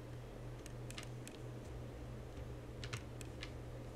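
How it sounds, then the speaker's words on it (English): Sharp, close clicks in small clusters come from input while playing Five Nights at Freddy's 4, heard over a steady low electrical hum with no talking. "See, I'm clicking,"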